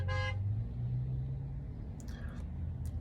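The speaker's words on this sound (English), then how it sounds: "There was a honk nearby." A car horn gives one short toot nearby at the very start, then steady traffic rumble continues beneath with no further honks.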